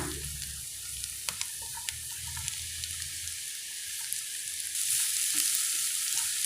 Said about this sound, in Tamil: நல்லா வதக்கிக்கோங்க வெங்காயம் நல்லா வதங்கியாச்சுங்க இப்போ நாம் முள்ளங்கி சேர்த்துடலாம்